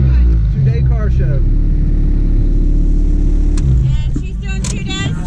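A loud Honda engine with no muffler rumbles deeply close by at a car show, with a brief rev swelling in the middle, while people talk over it.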